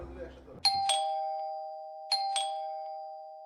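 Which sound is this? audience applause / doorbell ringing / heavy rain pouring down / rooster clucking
doorbell ringing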